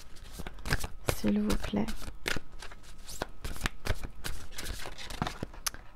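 Tarot cards shuffled by hand during a card reading, with quick riffling and papery slaps repeating at close range under brief spoken words.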